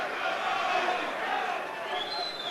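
A boxing arena crowd reacts during an early bout, a continuous, fairly loud din of many voices swelling and settling over a couple of seconds without a break.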